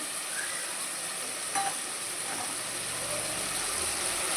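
Tomato rice with soya chunks and freshly added mint cooks in a pan, giving a steady close sizzle and hiss of frying with a brief stir or clink partway through, no talk.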